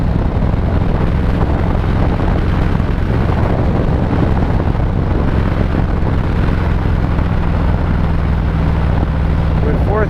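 Harley-Davidson motorcycle riding in fourth gear and slowing down, a dense low engine rumble mixed with heavy wind buffeting, constant and loud throughout.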